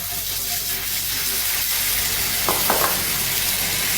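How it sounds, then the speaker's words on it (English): Butter is added to melted sugar caramel in a pan and hisses in a loud, constant close-up sizzle, with a couple of brief scraping stirs near the end. "we're going to add 1 tablespoon of butter."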